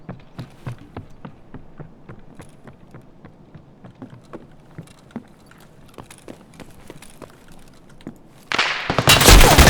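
Gunfire in Escape from Tarkov: a steady run of separate shots cracks out at a brisk, uneven pace for most of the stretch. Near the end a loud, dense burst of noise takes over.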